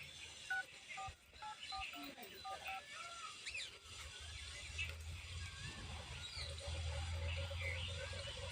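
Telephone keypad tones beep in a quick irregular series early on, followed by a low hum and background noise in a rural setting.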